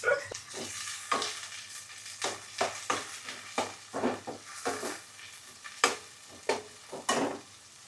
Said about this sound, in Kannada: ಈಗ ಆನಿಯನ್ ಆವ್ರೇಜ್ ಫ್ರೈ ಆಗಿದೆ, ಅಷ್ಟು ಸಾಕು.